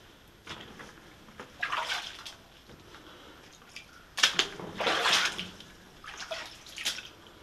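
Boots slosh through shallow water in an old mine, a series of uneven close splashes coming in bursts with quiet gaps between steps.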